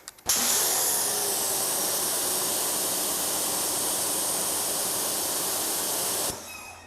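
Ryobi electric pressure washer spraying water, a loud steady hissing blast that starts abruptly after a brief pause and holds constant for about six seconds before cutting off, close and with no voices.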